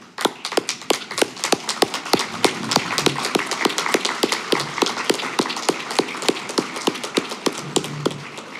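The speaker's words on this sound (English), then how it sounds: "we'll give you a round of applause, those elders" Applause for elders at the Doyon annual meeting, a crisp steady run of claps, sparse and evenly spaced like a few hands clapping near the microphone.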